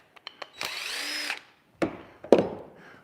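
A power drill runs in one sustained whine lasting about a second as it drives a screw into plywood or a 2x4 on a workbench, close and loud, followed by a few sharp knocks and clunks of handling.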